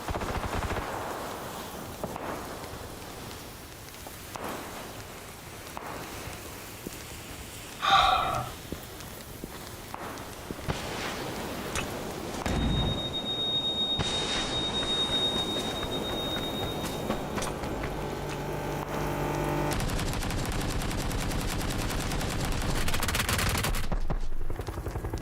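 Rapid gunfire fills a shooting video game, with dense bursts and overlapping shots running loud and nearly continuous throughout, and almost no talk over it.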